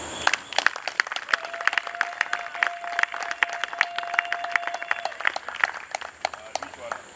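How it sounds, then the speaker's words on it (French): An audience at a life-saving project event in Congo applauds steadily with dense, rapid clapping throughout, a faint sustained tone running underneath for a few seconds. "j'invite à applaudir."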